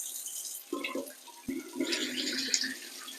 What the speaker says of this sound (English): I'm just gonna wash my rice. I'm gonna wash it 2 times.